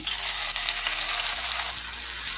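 A spice paste mixed in water hits hot oil that already holds whole spices for a potato curry, setting off a loud, dense hiss of sizzling that stays steady and close throughout.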